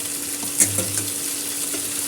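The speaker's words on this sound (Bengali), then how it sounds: "পেঁয়াজ কাঁচা লঙ্কাটা ভাজা হচ্ছে।" Onion and green chilli fry in a pan, giving a close, steady sizzle with a couple of brief stirring clatters and no talking.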